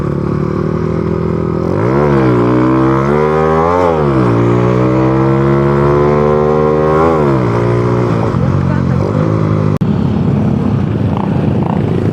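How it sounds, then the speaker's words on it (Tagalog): A motorcycle engine revs loudly up and down several times over a rumbling idle, close by, with a sharp tick near the end. "mapapansin nyo po maingay ang aking motor ngayon"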